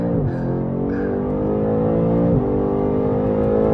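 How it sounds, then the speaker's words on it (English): A BMW M8 accelerating hard with all four tires spinning: a loud, steady engine roar with a strong droning tone, a brief dip and shift near the middle like a gear change, then sustained pulling, with no talk. "Oh, we're spinning all 4 tires."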